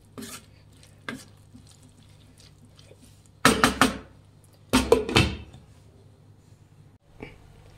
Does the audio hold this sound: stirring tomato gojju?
yes